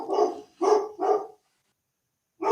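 A dog barks three times in quick succession, close and clear, then falls silent before a fourth bark starts at the end.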